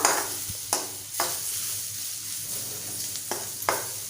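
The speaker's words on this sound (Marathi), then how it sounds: "एक चमचा मालवणी मसाला परतून घेऊया" Turmeric and Malvani masala sautéed in hot oil in a pan for a clam curry, a soft steady sizzle broken by several scraping strokes of the spoon, close and with no talk.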